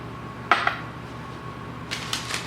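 A metal baking pan of cheeseburger bombs made from canned biscuits slides into an oven set to 350, giving one sharp clank and then a few lighter rattling knocks, close and distinct against a quiet kitchen.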